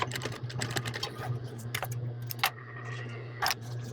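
A sewing machine stitching a ribbon onto an apron, heard as a quick run of rapid mechanical clatter followed by a few scattered clicks and taps over a low steady hum, near and quiet, with no speech.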